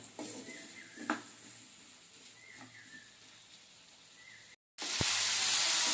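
Potatoes, chopped tomato and green chilies sizzle and hiss steadily in a hot pan, with a few soft stirring clicks, then a brief gap before a louder burst of frying.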